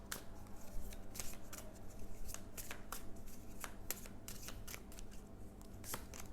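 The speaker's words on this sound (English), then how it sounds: "let's get you some oracle cards to close off the reading" Oracle cards being shuffled by hand during a tarot-style reading, a steady run of crisp riffling and flicking taps close to the listener, continuing without pause and with no voices.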